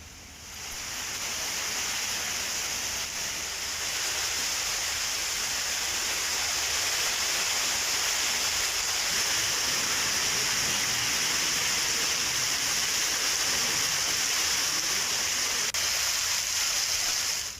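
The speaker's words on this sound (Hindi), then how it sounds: "तेज हवा के साथ बारिश हो रही है" Heavy rain driven by strong wind from Cyclone Yaas, a dense continuous roaring hiss that stays loud and steady throughout with no voices.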